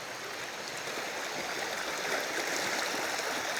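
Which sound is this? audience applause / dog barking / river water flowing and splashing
river water flowing and splashing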